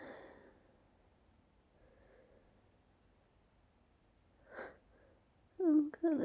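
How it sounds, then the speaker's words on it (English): A single sharp human sneeze bursts out near the end of an otherwise quiet stretch, preceded by faint breathy sniffs and soft breaths. "I'm gonna sneeze."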